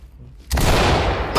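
A burst of gunfire in the tactical shooter game Ready or Not cracks in loud and sustained after a quiet opening, rolling on for most of a second with a fresh blast at the end.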